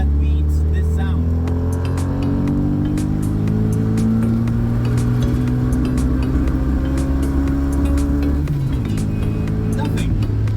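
A classic blue Morris Mini's engine revs loud and close, its pitch climbing steadily for several seconds before dropping back sharply, with voices heard over it.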